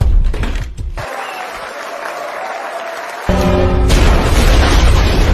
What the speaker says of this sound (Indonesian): tepat jam 12 malam, bom waktu yang Gio siapkan pun akhirnya meledak